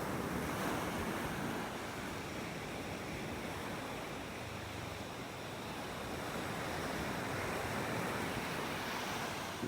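Surf rolls and washes steadily along the beach at Wiggins Pass in North Naples, Florida, a loud continuous wash of breaking waves with wind buffeting the microphone and no voices.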